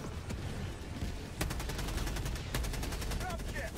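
A video game firefight sounds with rapid, evenly spaced gunfire bursts and heavy mortar-like blasts, loud and dense throughout, while voices talk faintly underneath.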